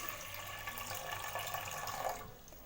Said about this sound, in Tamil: இது கூட 2 கப் அளவுக்கு தண்ணி ஊற்றிக்கோங்க